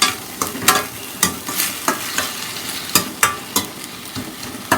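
Onions are sautéed in a pan for goat intestine gravy. Close, sizzling frying is broken by regular, sharp scraping strokes of a spatula, about two or three per second.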